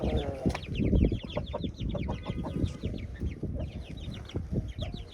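Several Aseel and Rhode Island Red chickens cluck and chirp busily close by, overlapping calls in quick irregular bursts over a low background rumble.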